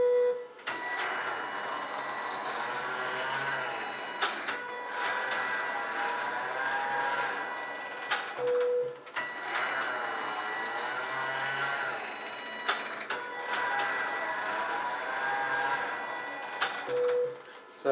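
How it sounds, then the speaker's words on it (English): A Kniterate digital knitting machine casting on with main yarn across all needles, its carriage making repeated whirring mechanical passes of about four seconds each, separated by brief clicks and pauses, steady and close with no talking. "the next thing it will do is cast on with the main yarn, so it just kind of uses all the needles to get nice loops on all the stitches"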